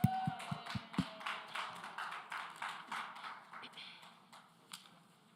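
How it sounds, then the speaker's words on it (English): An audience claps for Mother Kennedy in a room, with sharp close taps at first, then scattered, uneven clapping that thins and fades over several seconds. "Clap it up for her, y'all."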